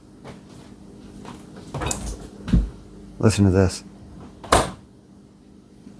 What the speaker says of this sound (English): And listen to the door seal.